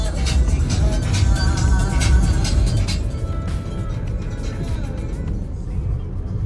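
A car cruises along a highway near Asansol on a road trip from Kolkata to Purulia, giving a steady, loud road-and-engine rumble with wind noise that eases slightly toward the end.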